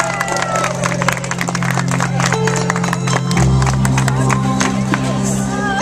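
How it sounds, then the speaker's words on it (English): A crowd at a 2015 vegan event applauds and cheers for a holistic health coach, with dense clapping and shouts filling the whole stretch over a steady low hum. "So how about a big round of applause, ladies and gentlemen, for the Supermarket Fairy."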